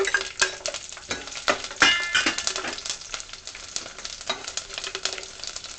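Chopped garlic dropped into hot oil with already-popped mustard seeds sizzles and crackles steadily in a pan for making Kerala-style red gooseberry pickle, with scattered sharp pops and a few utensil clinks, close and continuous with no talking.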